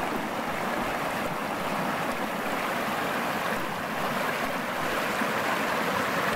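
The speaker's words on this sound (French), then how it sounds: "cette petite veine qui coule d'en haut, ben, alimente ce grand ruisseau du bas" A large mountain brook fed by a small trickling vein from above flows in a constant, loud rushing hiss, steady and unbroken throughout with no voices.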